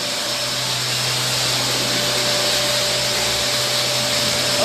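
A power sander grinds over wall putty on an interior wall, giving a constant, loud whooshing drone with a steady hum underneath and no break.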